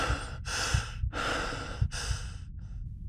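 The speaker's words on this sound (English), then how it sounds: "You're out of breath." Heavy, rhythmic breaths up close from a chukar hunter climbing steep mountain slopes, several long ragged inhales and exhales in quick succession, loud and alone.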